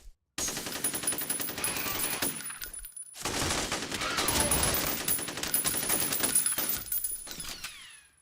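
Rapid automatic gunfire with recoil in the shooter game F.E.A.R., loud sustained bursts broken by short pauses, with a faint voice briefly under the shots.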